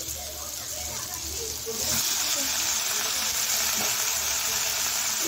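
Red amaranth stalks drop into a pan of frying garlic and spices, and a loud, steady sizzle and hiss surges up and holds, close by.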